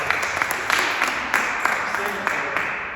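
An audience at a children's theater event gives a round of applause, scattered claps sounding fairly loud and close through a short stretch with some voices mixed in.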